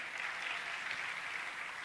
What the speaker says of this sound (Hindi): आप लोग तालियां बजाना प्रारंभ करिए, करतल ध्वनि से स्वागत करिएगा।